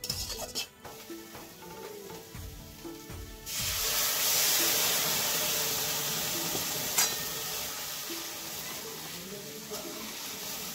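Boiled vegetables such as Malabar spinach, taro, potato and papaya are tipped into spice paste in a pan, setting off a steady loud sizzle and frying hiss with stirring, after quieter kitchen sounds.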